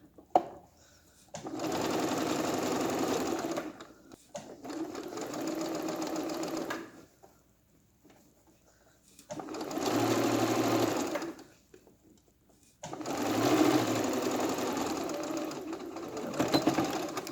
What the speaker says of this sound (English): I am sewing the shoulder seam.